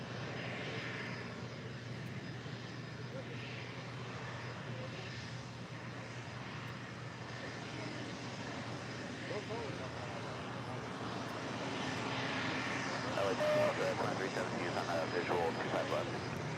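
An airliner's engines roar as it takes off from runway 25 right at LAX, a steady broad rumble that builds toward the end while a voice talks over it.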